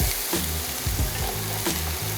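Chopped onions sizzle loudly in hot ghee with cumin seeds for chana masala, a dense steady frying hiss with a few soft clanks of a spoon against the pan, close and continuous with no voices.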